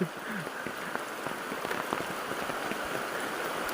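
Steady monsoon rain in Konkan patters on a surface close by, a dense, even hiss of drops with scattered heavier splashes throughout.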